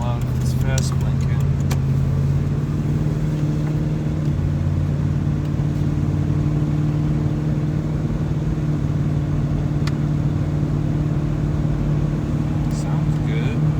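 A Land Rover engine runs steadily while the vehicle is driven, a continuous low drone with road rumble that holds its level throughout, with faint clicks layered on top.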